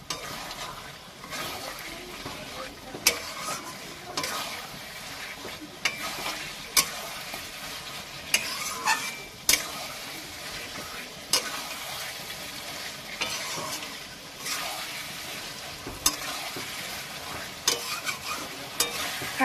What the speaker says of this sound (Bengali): এবার আমি কষিয়ে নেবো মাংসটাকে